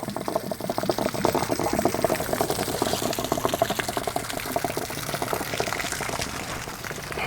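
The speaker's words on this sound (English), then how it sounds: "Now the water will start coming out" Water rushing steadily out of an RV water heater's open drain plug, a continuous near gurgling flow with no voices.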